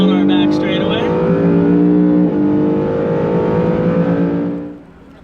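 A 2024 Acura Integra Type S on a racetrack, its engine droning steadily at high revs with a slight dip midway before fading out at the end, heard from close by with faint talk underneath.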